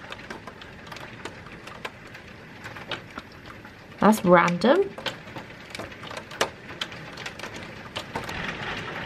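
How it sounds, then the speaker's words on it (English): Hailstones patter and tick on a car, sparse irregular taps scattered throughout, heard from inside, with a brief burst of speech in the middle. "It's just started hailing."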